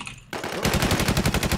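An LS90 fires in the video game Infestation World, a loud rapid burst of automatic gunfire with evenly spaced shots after a brief quieter lead-in.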